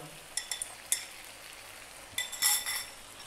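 Beaten eggs hit a hot pan with tomatoes and beef, giving a quiet sizzle broken by a few soft clinks and stirring scrapes, then a louder hiss near the end.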